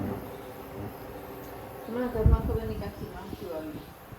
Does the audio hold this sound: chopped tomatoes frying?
no